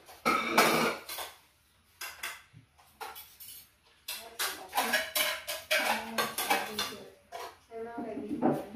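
Plates and spoons clatter and clink while a table is set in a home kitchen, in irregular close bursts, with brief speech and a cough between them.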